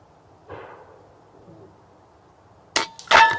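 Rifle shots ring off a metal target at a range, heard as a sharp double clang and a cluster of impacts near the end after a quiet stretch with a faint thump earlier.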